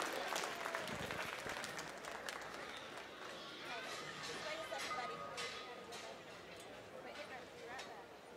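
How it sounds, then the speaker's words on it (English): Sustained clapping and cheering from a crowd at a junior gilt show in a livestock ring, steady and fairly distant throughout, with voices mixed into the noise. "give all those kids a big round of applause"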